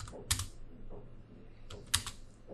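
Keystrokes on a computer keyboard as a prompt is typed, coming in two short bursts of clicky taps about a second and a half apart, close and fairly quiet with no talking.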